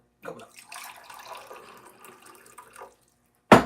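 Tap water runs steadily into a coffee maker's reservoir for a couple of seconds, a close, hissing stream with small splashes, ending in a short louder burst.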